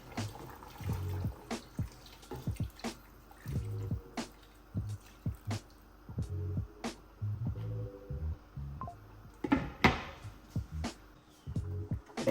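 Water poured into a cooking pot while making smoky jollof rice in a Nigerian home kitchen, heard as repeated splashing drips and trickles in short bursts, fairly close and moderately loud, with no talk.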